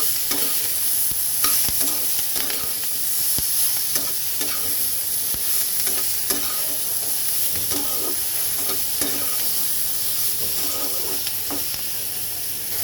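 Taro and chili frying in oil in a pan, a constant bright sizzle beneath repeated scraping strokes of a spoon as the pieces are stirred, close and steady throughout.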